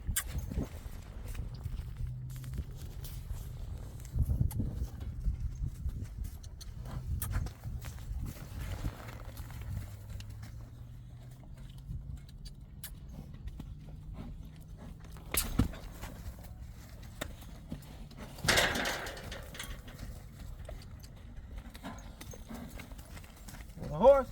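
Slow, uneven clip-clop of horse hooves on a hard surface, with a few louder knocks and faint speech in the background.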